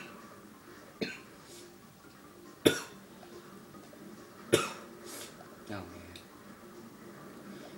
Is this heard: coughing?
yes